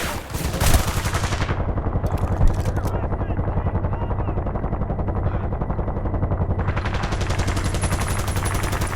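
In Battlefield Bad Company 2, a machine gun fires a long continuous burst, loud and rapid, with helicopter-like rotor noise and someone talking over it.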